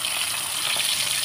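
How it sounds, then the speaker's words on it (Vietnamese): Cabbage rolls filled with meat frying in a pan, making a loud, steady, close sizzle with no talking over it. "mình sẽ bỏ vô trong một cái chảo để mình chiên nha các bạn"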